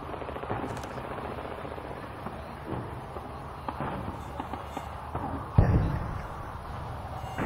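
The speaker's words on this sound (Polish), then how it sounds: "Strzały." Gunfire during a military airsoft or battle game near bunkers and fortifications, a steady crackle of distant shots with one louder close burst partway through.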